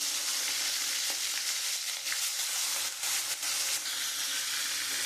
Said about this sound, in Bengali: মাছটা আমি সব এক এক করে ভেজে নেব